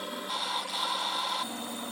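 A drill boring holes through metal parts for a surface grinder attachment made for a belt grinder, a steady high-pitched whine holding for about a second and a half before easing off, close and alone.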